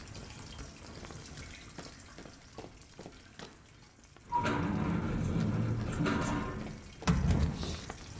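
Water runs from a pipe in the SCP-022 video game, a steady rushing stream that swells in loudly partway through after quieter ambience, with a brief louder burst near the end.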